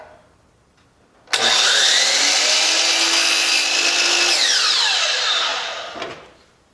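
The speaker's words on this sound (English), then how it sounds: "That makes it a little easier for me to kind of process the way to set the miter saw on the proper angle. So let's go ahead and cut that." A miter saw cuts through a length of wood cove trim for a Craftsman-style window casing, starting abruptly with a loud, steady whine that holds for about five seconds before spinning down, with no talk.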